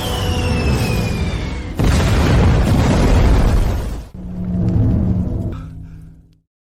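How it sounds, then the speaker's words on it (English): A missile blast in an animated naval battle: a broad, loud roaring burst that swells for several seconds, then a second rumbling surge that fades out. "One last missile to end you."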